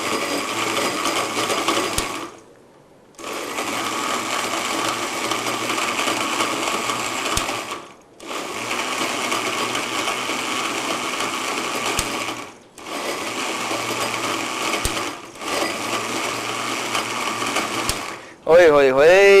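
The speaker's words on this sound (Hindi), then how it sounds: "और इसे कर लीजिए ग्राइंड।" A kitchen blender grinds a banana smoothie in five loud whirring bursts separated by brief pauses, with a voice speaking near the end.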